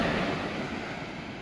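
Ocean surf breaks and washes up a beach during surf fishing, a steady loud roar of churning water mixed with wind buffeting the microphone, with no voices.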